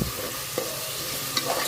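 Chicken pieces sizzle and sauté in a pan, a steady frying hiss with a couple of soft stirring scrapes, close up and fairly quiet.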